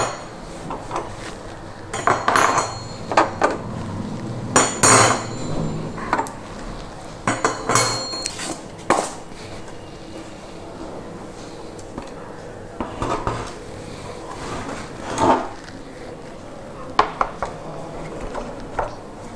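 Clattering metal knocks and bumps from a glass-top gas stove being handled and turned over, irregular clunks and scrapes close by, with faint talk underneath.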